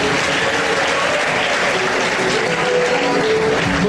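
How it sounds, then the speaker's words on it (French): Loud, continuous applause fills a ceremony hall, a dense wash of many clapping hands and crowd noise with no break, close and steady throughout. "Est-ce qu'on peut applaudir très fort notre papa, monsieur?"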